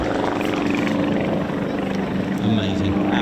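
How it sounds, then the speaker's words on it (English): A propeller aircraft at the East Kirkby airshow, where a Mosquito and the Lancaster Just Jane make taxi runs, approaches with a loud, continuous engine drone and throb, while someone talks over it. "I've got a plane coming towards me."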